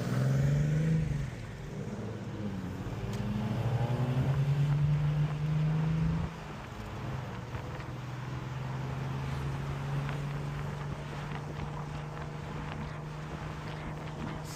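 A race car drives just ahead on race day at the TT. Its engine drones steadily and loudly, with a strong low hum that drops and then settles into a constant tone. No one speaks.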